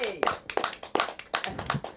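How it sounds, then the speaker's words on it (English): An audience at a comedy show claps in a quick scattered burst of sharp claps, with a voice talking over it. "Clap it for Sam."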